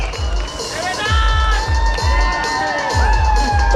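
Crowd at a bodybuilding competition's men's physique prize announcement, clapping rhythmically with cheers and shouts, loud and close, with voices calling out through the noise.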